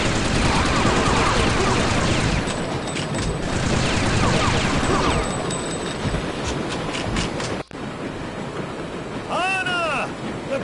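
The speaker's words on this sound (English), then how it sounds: "Get the assault rifle out." Assault rifle fire in the game Fear Effect, rapid sustained bursts of shots over a roaring, rumbling background like a moving train, loud and dense for most of the stretch, then a sharp break and quieter tail with a brief voice.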